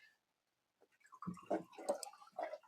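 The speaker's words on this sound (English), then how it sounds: "Listen to the pour." Hot drink poured into a cup, a brief faint trickle followed by a run of close, bubbly splashes and glugs in a quiet room.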